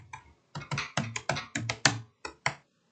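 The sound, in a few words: typing on a computer keyboard in a search bar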